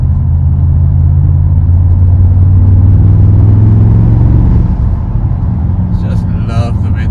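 A 2025 Mercedes-AMG GT63 S E Performance 4-door coupe with 4MATIC all-wheel drive accelerating hard, a loud, deep engine rumble heard from inside that rises briefly and then eases off, with a faint click near the end.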